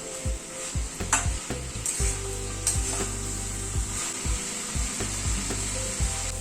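Mixed vegetables sautéed with spices in a pan, a constant close sizzle under rhythmic scraping and knocking as a spatula stirs, strokes repeating about twice a second; no voices.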